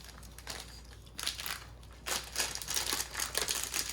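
Candy packets from a Turkey-themed snack box, including peach rings, are torn open, giving bursts of close, loud plastic crinkling and crumpling.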